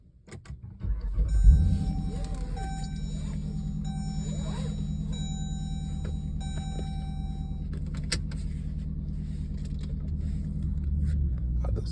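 Inside the cabin of a 2020 Dodge Durango with a modified exhaust, a steady low engine drone hums evenly throughout, with faint interior clicks and tones above it.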